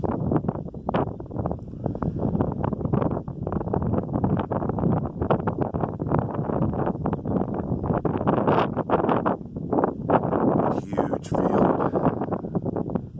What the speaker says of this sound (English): Very windy up on this hill.